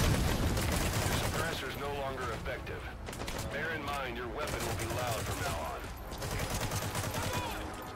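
Loud unsuppressed rifle fire in Metal Gear Solid 5: The Phantom Pain, with rapid bursts of shots in a constant barrage of combat noise, while voices talk and shout over the gunfire throughout.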